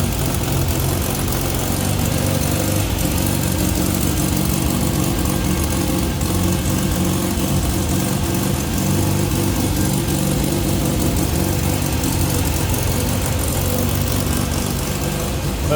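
A 1962 Nash Metropolitan convertible's 1.5 liter single carb engine runs with the hood up, a continuous, even, mid-pitched drone heard up close without any break.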